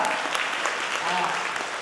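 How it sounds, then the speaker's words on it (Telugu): An audience at a women's society annual general meeting bursts into dense, continuous clapping close by, with voices mixed in underneath. "ఒకసారి చప్పట్లు కొట్టండి, చక్కగా చెప్పాడు కదా"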